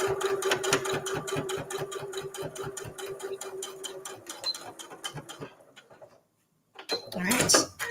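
A sewing machine runs close by, top stitching a quilted fabric mug cozy with a fast, rhythmic needle clatter that stops near the end, then a short burst of handling noise follows.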